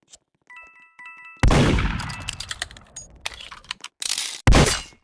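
Gunshots ring out in a Roblox Murder Mystery 2 match: sharp cracks with short echoing tails, two of them loud and close, among small clicks and game chimes.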